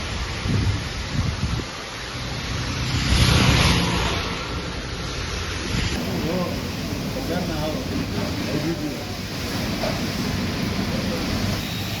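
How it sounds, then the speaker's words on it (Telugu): Heavy night rain pours steadily over Hyderabad with a dull rumble of thunder, and a voice speaks over the downpour. "అర్ధరాత్రి కూడా నగరంలో భారీ వర్షం పడింది"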